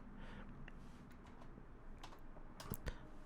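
Typing on a computer keyboard while entering code for an OLED display, faint scattered key clicks in a quiet room, with a small burst of quicker taps near the end.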